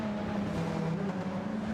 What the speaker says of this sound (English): that clicking sound you hear is from the Audi R18s.